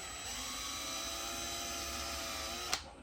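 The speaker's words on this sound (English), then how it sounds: "Drill that out" A power drill bores out a lower mounting hole on a motorcycle headlight bracket for a Custom Dynamics Shark Demon headlight on a Harley-Davidson Low Rider ST, whining steadily and close for about three seconds before a sharp click as it stops.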